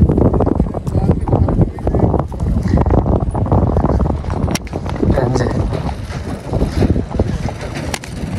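A mare's hooves clip-clop steadily outdoors, a fairly close, uneven patter of knocks mixed with wind buffeting the microphone, while people talk nearby.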